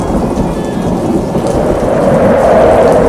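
Heavy rain pours steadily and loudly with rumbling thunder beneath it, a dense continuous storm wash during a torrential downpour with no voices.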